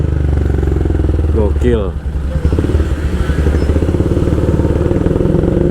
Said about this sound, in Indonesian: Suaranya enak banget, ngebass padet gitu suara knalpotnya.